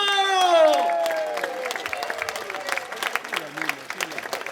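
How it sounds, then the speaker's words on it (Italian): An open-air crowd at an orchestra concert in Jesolo applauds loudly with cheers and whoops, a sliding voice or whistle sweeping down at the start before the clapping continues steadily amid scattered shouts. "Un applauso al comune di Jesolo che ci ha invitato!"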